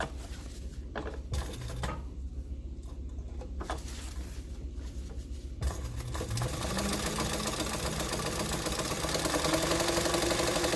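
Sewing machine stitching a line down the middle of a back band, a steady, close mechanical whir that starts with a few short bursts, then settles into a long continuous run that grows slightly louder.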